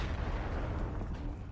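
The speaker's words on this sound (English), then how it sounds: "Hostile Predator missile inbound." A Predator missile strike explodes in Call of Duty Mobile during a Ground War match, a loud, dense rumbling blast that fills the whole short stretch without pause.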